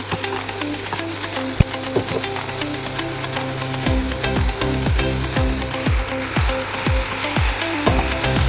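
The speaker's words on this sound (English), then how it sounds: "Add a little oil and cook the ingredients for this stuffing." Vegetable sandwich stuffing fries in oil, with a steady sizzle under rhythmic scraping and knocking of a utensil stirring the pan, close and continuous.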